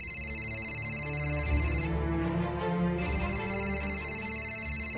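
An electronic telephone ringtone repeats in bursts with a short pause between them, moderately loud and clear in a quiet indoor space, with no talking.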